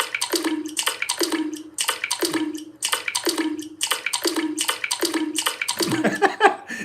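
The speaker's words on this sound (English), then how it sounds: "it's just a water droplet in a toilet" Water droplets fall one after another into a toilet bowl, each landing as a bright, ringing plop in a steady rhythm close to the microphone, about ten drops in a row.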